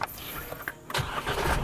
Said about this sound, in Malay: Start engine. You dah dengar diesel punya engine.